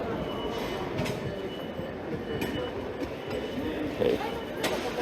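An Osaka subway train runs with a steady rumble of wheels on rails, faint squeals and clatter, and indistinct voices murmuring in the background.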